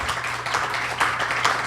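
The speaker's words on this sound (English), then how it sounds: "Yes, please give them all a round of applause." A club lunch audience applauds, a dense patter of many hands clapping close by for a short stretch, with no talk over it.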